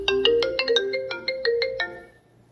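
A telephone rings in a recorded English listening test, with a quick series of bright electronic ringtone notes, clear and close, before fading out with no voices.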